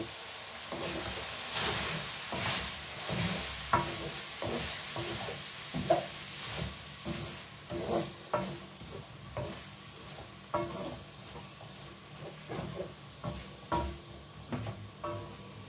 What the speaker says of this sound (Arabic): هبتدي اشوح البصل كده